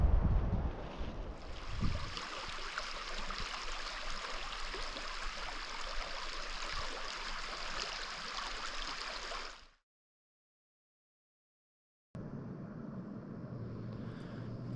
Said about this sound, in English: We got a creek running over there, so we got a good source of water